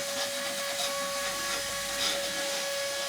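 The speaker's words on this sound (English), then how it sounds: "Vacuum day." A vacuum cleaner runs steadily throughout at a close, constant level, with a sustained motor whine and airy suction noise and no talk.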